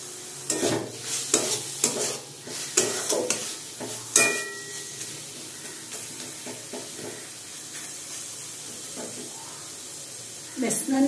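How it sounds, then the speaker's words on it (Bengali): Chhana, a soft cottage cheese, is stir-fried with spices in a pan. Scrapes and stirring strokes come in a quick irregular series over a low sizzle and then settle into a quieter steady hiss, with some talk. "ভালো করে মশলার সাথে ছানাটাকে কষিয়ে নিয়েছি"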